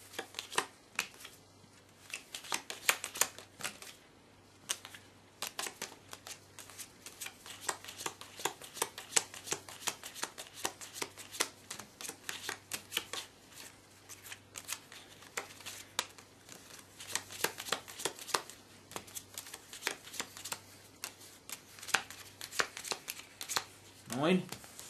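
Playing cards are sorted and handled, with rapid crisp riffles, flicks and slaps repeating throughout, close and fairly loud, while a person talks intermittently.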